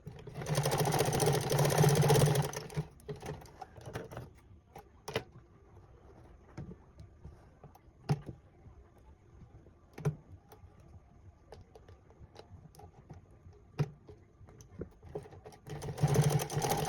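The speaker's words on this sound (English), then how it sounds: "So I'll go ahead and sew this place down." A sewing machine stitching tailored shorts runs in a loud, fast whirring burst at the start. After a stretch of quiet with a few isolated clicks and taps, it whirs again at the end.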